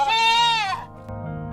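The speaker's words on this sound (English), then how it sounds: "Sheep say "ba-ba," while goats say "mei-mei."" A goat or sheep gives one strong, wavering bleat, loud and close, lasting under a second, followed by quieter low farmyard rumble with no talking.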